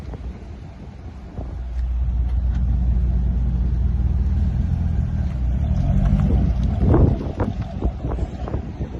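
A C6 Corvette Grand Sport engine rumbles loudly and steadily, building to a sharper rev surge near the end, with wind noise buffeting the microphone throughout.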